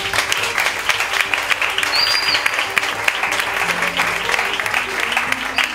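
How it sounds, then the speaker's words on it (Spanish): Audience at an album presentation concert applauds the guitarist, an arranger and producer of the record, with steady, lively clapping and a brief whistle rising above the crowd. "Pido un aplauso para él, por favor."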